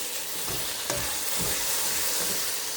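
Crushed Scotch bonnet peppers frying in a pan with a steady broadband sizzle and a few stirring scrapes, close and continuous, no voices.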